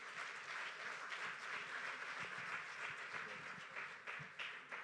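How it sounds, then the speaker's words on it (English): Audience applause after a young girl's speech at a campaign launch event, a steady wash of many hands clapping throughout, fairly even and moderately loud with no voices over it. "Can we give her a big round of applause one more time?"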